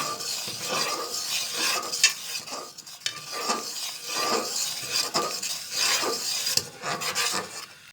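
A spoon stirs milk in a pot for sohan halwa, making repeated rhythmic scraping strokes against the metal with a faint bubbling sizzle, close and moderately loud.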